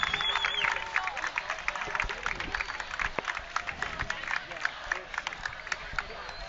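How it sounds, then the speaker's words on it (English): Away fans cheer and clap in the stands at a high school football game between Lincoln High and Grand Island: an irregular patter of applause and crowd noise under a steady wash of chatter. "And the away fans here feeling pretty good."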